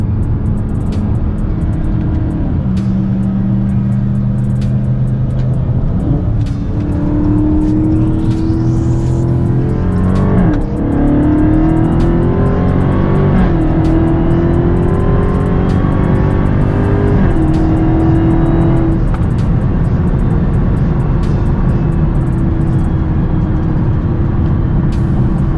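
A 2020 Dodge Charger Hellcat Widebody accelerates hard from inside the cabin, its supercharged engine droning loudly and climbing in pitch through several upshifts, each marked by a brief drop before the revs rise again.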